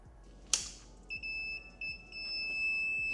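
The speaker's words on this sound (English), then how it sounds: "Still doing the same beeping." Controller on a 20-year-old Razor MX350 electric scooter giving error beeps, a few thin high-pitched electronic tones, one long sustained beep among shorter ones, fairly faint, with clicks and handling noise around them.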